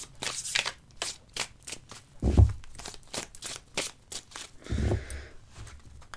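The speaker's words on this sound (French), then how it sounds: "Je prends donc mon tarot et on va prendre nos 6 cartes." Tarot deck shuffled by hand, a quick run of crisp riffling card flicks up close, punctuated by a couple of soft thumps as the cards are squared.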